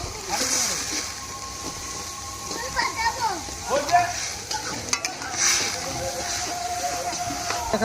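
Chopped tomato and water going into a fish curry, a close sizzle and splashy bubbling with stirring scrapes under a voice talking, the hiss swelling in short bursts.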